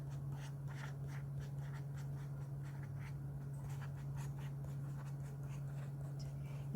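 Handwriting on a surface, faint rhythmic scratching strokes close by, set over a constant low electrical hum, with no talking.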